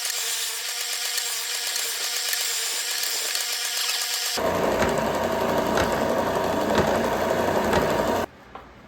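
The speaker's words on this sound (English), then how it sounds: "We'll just take them over the sander and get it all smoothed out." A power sander whirs steadily on wooden boxes, then shifts to a louder, rougher grinding drone before cutting off abruptly near the end.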